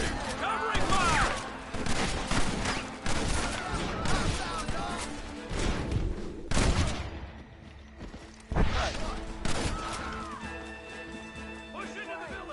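Gunfire rings out in the Western video game Red Dead Redemption, with repeated sharp shots and bursts, some close and loud, others trailing off, under shouted voices and the sound of horses.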